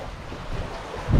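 A sailboat glides at about 4.5 knots in roughly 9 knots of wind, with steady broadband rush of water and wind across the microphone and a low surge of swell swelling louder near the end; no voices.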